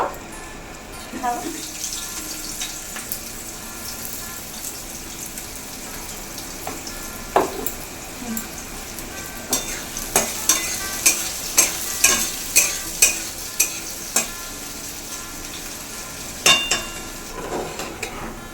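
Onions frying in a kadai with steady background sizzle and a run of rhythmic spatula stirs and scrapes in the second half, close and fairly loud, no speech.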